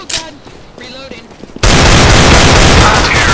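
Loud, sustained gunfire erupts in Counter-Strike: Global Offensive, a dense continuous burst that starts abruptly halfway through, following a few excited shouts from a player.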